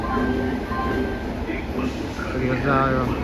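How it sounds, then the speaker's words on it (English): A fast train rumbles past in a steady loud roar with faint rail rattling, and people talk throughout. "So guys, you are witnessing the world's fastest train ever."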